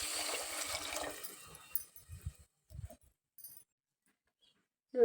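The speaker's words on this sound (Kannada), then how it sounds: "ಅದಕ್ಕೆ ಈ ಚರಿಗಿಲೆ 2 ಚರಿಗೆ ನೀರು ಹಾಕ್ಕೊತೀನಿ ನಾನು" Water poured from a half-litre pot into a cooking vessel, a short splashing gush followed by a few faint trickles and drips, then quiet.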